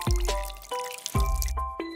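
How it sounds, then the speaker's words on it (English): Milk is poured into a plate in a few short, close liquid glugs and drips with a bright, ringing splash quality, the pouring coming in small uneven spurts. "Pour milk into the plate."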